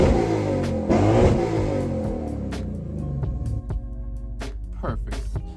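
Lexus RC F engine revving hard in a few rising and falling bursts, loud and close, with sharp mechanical clicks and knocks around it as the car warms up for an oil change.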